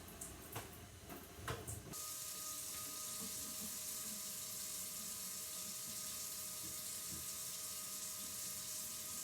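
Hot water pours from a tap in a steady hiss onto scraps of recycled paper in a bowl, following a few brief clicks and knocks. No one speaks.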